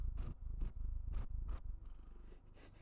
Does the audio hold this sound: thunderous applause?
no